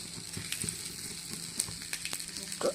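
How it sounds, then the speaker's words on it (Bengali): Whole cumin seeds crackle in hot oil left from frying a fish head, a continuous close sizzle dotted with small pops and a brief scrape near the end. "গোটা জিরে দেব"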